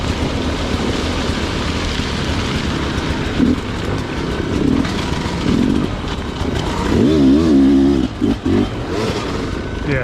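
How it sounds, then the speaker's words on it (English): A new Sherco trials dirt bike engine revs and labors close by on an extreme offroad loop, a rough, fluctuating drone that rises into louder throttle bursts toward the end. "Trials bike."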